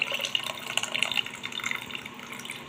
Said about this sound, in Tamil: அந்த கரைசல் தண்ணியை இதில் ஊற்றிக்கலாம்